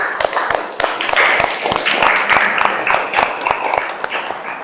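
A classroom of students claps after a group presentation, with loud, closely spaced rhythmic claps from a small group near the listener, fairly even in pace throughout.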